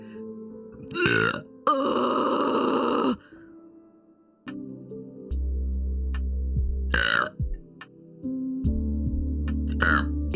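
Several loud burps mixed with grunts and groans from a streamer, coming in separate bursts with short pauses between them, close and unaccompanied by talk.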